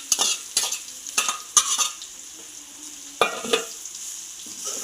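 Curry leaves fry in a pan with onion while a spoon stirs them, giving a steady sizzle broken by repeated scraping strokes and light metallic clinks, close and clear, with no voices.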